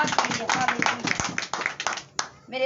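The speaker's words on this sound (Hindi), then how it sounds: "तालियां खूबसूरत मैसेज के लिए।" A congregation in church claps in a quick, irregular patter of many hands. A speaking voice overlaps the clapping, which stops abruptly near the end.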